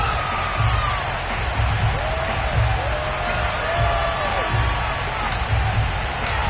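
A football crowd at FedEx Field before a Washington NFL game against the Houston Texans rumbles and cheers at a moderate distance, with scattered yells under a commentator's voice.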